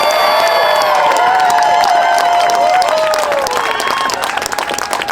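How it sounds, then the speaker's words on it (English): Audience at a union rally in Minneapolis applauding and cheering loudly, dense clapping mixed with whoops and shouts that fades slightly at the end. "Can we give a huge round of applause back there to Marsha Howard, to our teachers?"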